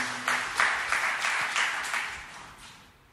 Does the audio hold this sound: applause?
yes